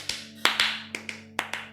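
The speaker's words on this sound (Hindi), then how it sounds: "ताली बजाते हैं भाई," Clapping from an animated scene: a few sharp, separate claps landing at uneven intervals over a low steady hum, with no voices.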